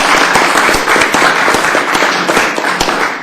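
Committee members at a House Rules Committee hearing applaud, giving a steady, dense burst of many hands clapping, close and loud throughout.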